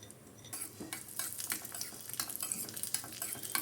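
Cashews fry in hot ghee in a pan, a soft, steady sizzle with scattered scraping stir strokes and light clinks of a spoon against the metal.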